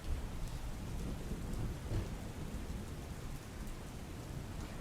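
Steady early-morning rain falls in a dense, hissing wash over Patan, Gujarat, with a low rumble of thunder rolling underneath throughout.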